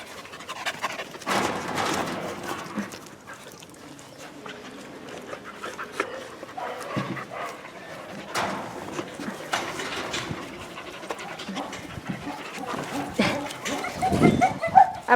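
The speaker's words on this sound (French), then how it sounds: "il y a quelques chiens qui sont dans cet enclos là" Several dogs in a quarantine enclosure at a dog shelter pant and give occasional barks, close by, in bursts over steady background activity.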